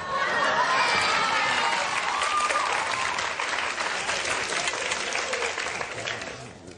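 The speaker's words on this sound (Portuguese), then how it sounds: "Palmas para eles, os barbichas!" Audience applause fills a comedy show, a dense, steady wash of clapping that fades toward the end, with a few voices mixed into the crowd.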